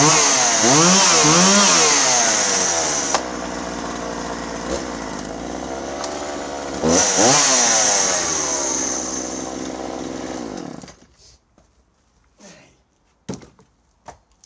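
A Husqvarna 137 chainsaw runs loud and close, its engine revving up and down in repeated surges before it cuts out, leaving a few scattered knocks and handling sounds in the quiet that follows.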